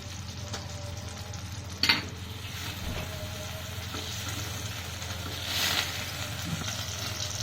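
Butter sizzling and frying steadily in a hot pan over a flame, a continuous crackling hiss with an occasional clatter of utensils, close and alone.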